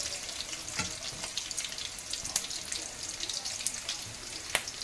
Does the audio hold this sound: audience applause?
no